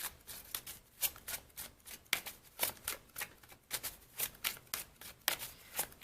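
Tarot cards shuffled by hand, a rapid run of crisp riffling bursts repeating in a steady rhythm, close and quiet, with no speech.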